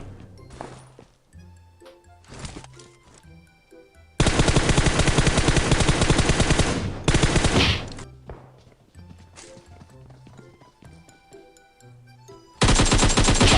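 Automatic gunfire in PUBG Mobile, with scattered single shots and short bursts, then two long sustained full-auto volleys blaring loud and close, broken by brief quieter gaps.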